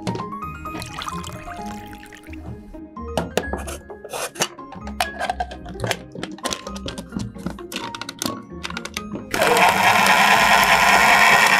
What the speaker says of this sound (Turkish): Blender'a koyuyoruz.